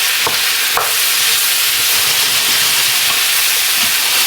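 Bacon, peppers and squash cook gently in a pan with a loud, steady broad hiss and a few soft clicks of stirring; no voices.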